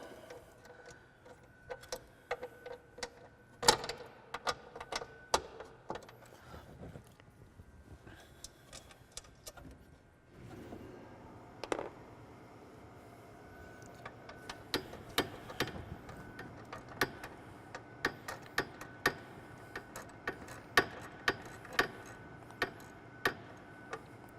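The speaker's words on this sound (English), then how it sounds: "I'm going to loosen all of them up." Bolts being loosened on a 2015-2018 Ram 1500 with the 5.7 Hemi, heard as sharp ratcheting ticks and metallic clicks in uneven bursts, close and fairly loud, with a quieter pause partway through and no talking.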